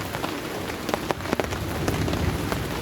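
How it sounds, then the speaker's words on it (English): Heavy rain falls non-stop on a tent at night while wild camping, a close, dense patter with scattered louder drops striking the fabric, and no voices. "From 5 o'clock it's just non-stop rain"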